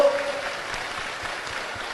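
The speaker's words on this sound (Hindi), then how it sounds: "अब जोरदार ताली बजा के इनका स्वागत करो" A crowd at a religious discourse gathering in Amgaon claps loudly to welcome a family, with dense, continuous applause throughout.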